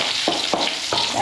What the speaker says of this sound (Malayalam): ഇനി കറിവേപ്പില ആ എണ്ണയിൽ തന്നെ കറിവേപ്പില ഇട്ട് കൊടുക്കാം.